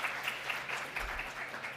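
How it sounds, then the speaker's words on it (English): A crowd at an Intra-African Trade Fair business roadshow in Botswana gives brief, steady applause, a faint, even wash of many hands clapping from a distance. "All right, round of applause,"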